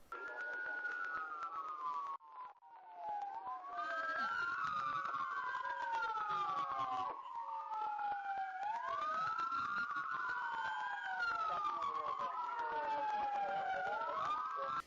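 Police car emergency sirens during a pursuit along Magnolia Avenue, wailing and yelping in overlapping sweeping cycles, loud and continuous with a brief dip early on, no talk.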